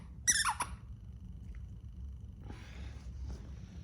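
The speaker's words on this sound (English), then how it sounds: "So if you hear squeaking and buzzing and running around, that's my dog Olive" A brief high-pitched squeak or whimper near the start, then faint rustling movement over a low steady background hum.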